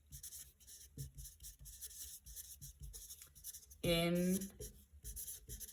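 Marker or chalk writing on a board during an organic chemistry lesson on naming substituents, heard as repeated scratchy rubbing strokes in short bursts, with a voice speaking briefly over them.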